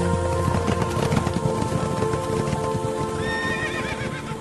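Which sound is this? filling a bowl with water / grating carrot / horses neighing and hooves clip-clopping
horses neighing and hooves clip-clopping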